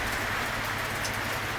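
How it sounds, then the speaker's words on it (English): Steady rain falls at Corinna by the Pieman River in Tasmania, a dense even hiss of drops on surfaces, close and continuous, with no voices. "It's raining again now"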